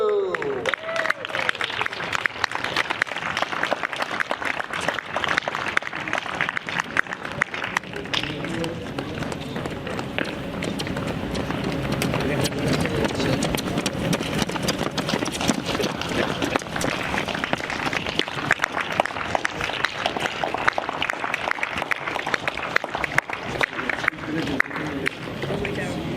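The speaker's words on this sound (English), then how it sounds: "let's have a round of applause for our fabulous ball crew" Crowd applause at a wheelchair tennis masters ceremony for the ball crew, sustained clapping across the stands with rhythmic patter and a murmur of voices, moderately distant.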